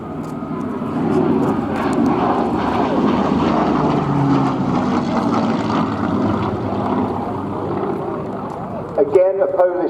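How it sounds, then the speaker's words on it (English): A Hawker Hurricane fighter, the last to enter RAF service, flies at the RIAT 2016 airshow with the BBMF, its piston engine a steady droning roar under an announcer's voice. "This actual aircraft was the last Hurricane to enter service with the Royal Air Force."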